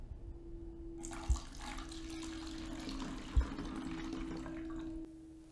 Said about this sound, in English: Then pour our 2/3 cup water into the bottle.